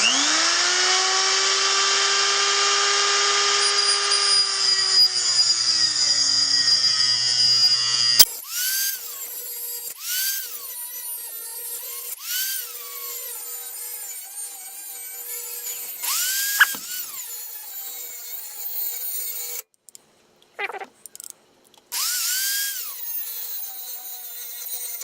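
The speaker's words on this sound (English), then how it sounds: "I'm gonna use my electric cutting wheel and shorten that bracket a bit" An electric cutting wheel cuts a metal bracket for a KLX140 mini supermoto catch can, first as a long steady high whine, then in short screeching passes with pauses, loud and close.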